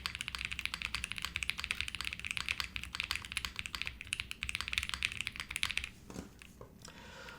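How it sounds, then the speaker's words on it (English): Steady, dense clatter of typing on a keyboard dampened with PE foam, soft and close with a fast even rhythm, trailing off into a few scattered knocks near the end. "this is super soft to type on"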